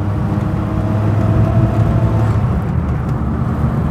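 A Vauxhall HA Viva saloon with very poor brakes drives down a single track lane, its engine giving a steady, close droning hum with a faint whir throughout and no voices.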